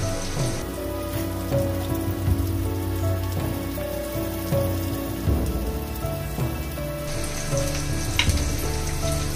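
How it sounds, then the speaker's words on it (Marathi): Chopped onion fries in a pan with ginger-garlic paste, a continuous crackling sizzle close by, with intermittent spatula scrapes and small pops throughout, no voices. "कांदा चांगला भाजून घ्यायचा"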